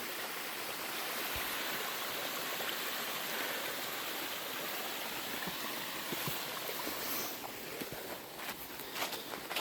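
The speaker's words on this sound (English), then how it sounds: "There's a waterfall." Rushing waterfall and stream swollen by heavy rain from a Pacific Northwest bomb cyclone, with a culvert nearby; a steady, loud broadband roar of falling water continues throughout, with a few faint footstep-like knocks toward the end.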